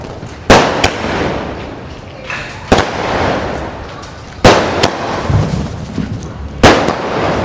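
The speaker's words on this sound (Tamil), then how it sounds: "டீசெண்டாக இருக்குங்க பட்டாசு." Diwali fancy firecrackers bursting outdoors, four loud sharp explosions spaced a couple of seconds apart, each followed by crackling sparkle and rumble.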